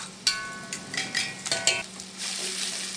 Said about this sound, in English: And mix that well